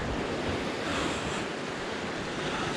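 Ocean surf rolls and washes steadily near a highline setting, with broad continuous wave noise and some wind buffeting the microphone, no voices.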